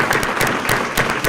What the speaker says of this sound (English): let us give all of you a round of applause.